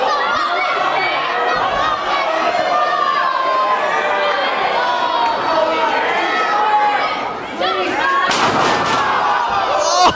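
A wrestling crowd erupts after a tombstone piledriver off the top of a ladder, a loud sustained roar and scattered shouts under an excited commentator's voice, swelling again in a sharp burst near the end.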